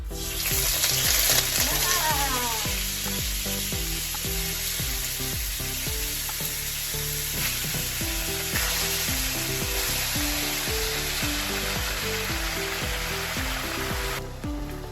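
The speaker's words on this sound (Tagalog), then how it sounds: "Lutuin na natin isa-isa yung ating pork." Marinated pork for pork estofado sizzles and fries steadily in a pan, a loud, continuous crackling hiss with occasional stirring scrapes throughout, no voices.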